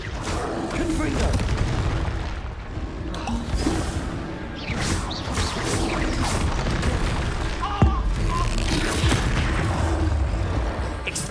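Confringo blasting curse explosions go off in the game Hogwarts Legacy, a dense run of booms and crashes layered over busy spell effects, with a voice calling out spells throughout.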